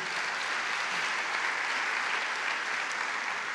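Audience applause at a Christian testimony talk: steady, dense clapping from a large crowd, loud and unbroken throughout with no voices over it.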